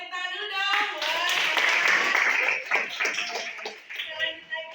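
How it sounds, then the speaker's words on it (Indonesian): Children clap together in a classroom, a dense burst of hand claps that swells and then thins out, with young voices calling and chatting over it throughout. "Oke, tepuk tangan dulu dong."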